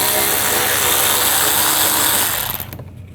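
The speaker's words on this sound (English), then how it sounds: "I'm going to unscrew that bolt using a 10mm socket." Steady whirring of a power tool or ratchet driving a 10mm socket to unscrew a bolt while replacing the headlight assembly on a 2014-2020 Nissan Rogue, loud and continuous before cutting off near the end.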